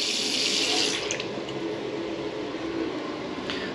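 Water pours steadily from a small sink tap in a rented home in the Philippines, a close, continuous splashing hiss with slight shifts in flow and no talk.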